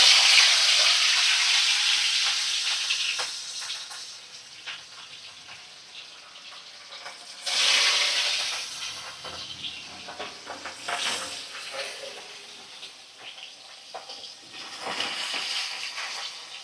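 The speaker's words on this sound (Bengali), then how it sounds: "এখন মাছের পিসগুলো আমি তেলের মধ্যে ছেড়ে দিচ্ছি" Pieces of katla fish drop into hot oil in a pan and sizzle with a loud hissing burst that gradually settles, then surges again as the pieces are moved, with bubbling crackle throughout.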